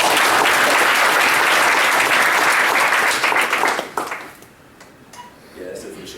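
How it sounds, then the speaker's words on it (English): A large audience applauds for the armed forces at a speech event, loud and dense clapping that holds for about four seconds, then thins out and fades to scattered claps with faint voices. "We always got to give them a round of applause for what they do."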